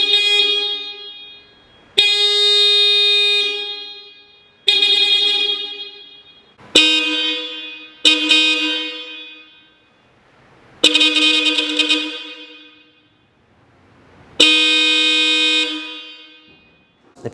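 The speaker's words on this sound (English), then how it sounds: "a little before and after on the factory horns versus the Supertones" Horns on a 2022+ Subaru WRX, the factory units against Hella Supertone horns, blare in about eight loud blasts of varying length with short gaps between them.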